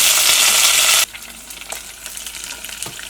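Curry leaves hit hot oil for a vegetable curry with an intense, loud sizzle for about a second. The sizzle then drops sharply to a quieter, crackling fry with occasional stirring sounds.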